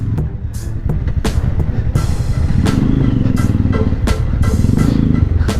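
A Yamaha R15 V3 motorcycle riding along a rough, broken road, its engine droning loudly and steadily throughout with repeated short bumps and rattles over the uneven surface.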